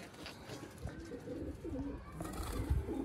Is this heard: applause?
no